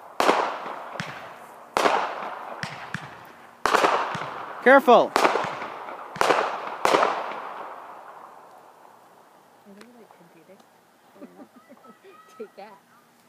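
Victoria Day fireworks burst outdoors in a run of loud, sharp booms and crackles, several close together and echoing away, followed by quieter distant pops while people talk nearby.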